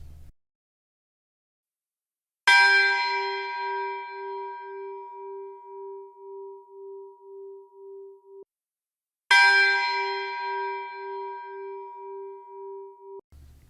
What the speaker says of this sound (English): a single long note of sound that continues to vibrate even after the contact of the clapper with the metal of the bell is over